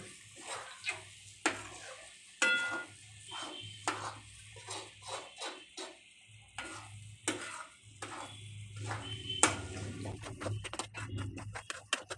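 Semolina sheera being stirred in ghee over a low flame, a spoon scraping the pan in irregular strokes over a soft continuous sizzle, close and fairly quiet, no talk.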